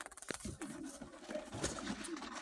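Domestic pigeons of the Crimean breed in the evening, cooing faintly and intermittently, somewhat distant, with a few soft rustles and clicks nearby.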